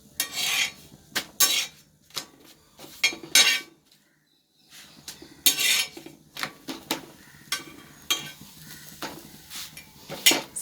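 Chapati cooks on a pan at breakfast, heard as a run of sharp metallic scrapes, taps and clinks of a utensil against the pan, irregular and close, with a short quiet pause partway.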